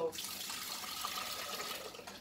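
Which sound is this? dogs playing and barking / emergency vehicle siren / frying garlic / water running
water running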